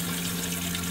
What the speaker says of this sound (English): And then I'll put a little bit in my toilet, flush it down.